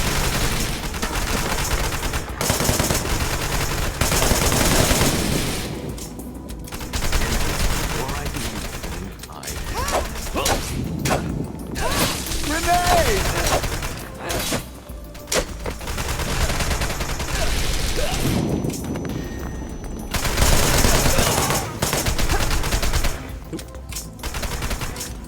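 Rapid bursts of gunfire from the third-person shooter Wanted: Dead, repeating in dense volleys across the clip, with a loud sustained stretch near the end; a voice talks intermittently over the shooting.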